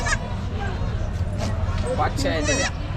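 Goats and young kids bleating at a large goat and sheep market in Chakan, Maharashtra; several short, nasal bleats rise over a steady crowd murmur, with people talking nearby.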